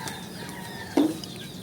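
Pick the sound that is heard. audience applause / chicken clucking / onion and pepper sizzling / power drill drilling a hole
chicken clucking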